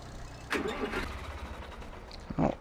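A tractor engine in Farming Simulator 2013 cranks and catches, giving a short burst of low engine noise followed by a steady idle, with a brief louder rev near the end.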